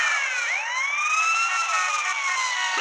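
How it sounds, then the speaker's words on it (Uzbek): Police siren in a GTA San Andreas game, loud and continuous, with wailing tones sweeping up and down across the whole stretch and no talk. "O, sirena bor ekan."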